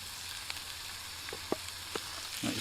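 Onions, garlic and tomatoes sizzle softly in a pan over a firebox at a wild camp in a dry forest for trout stew, a steady faint frying hiss broken by a few small crackles.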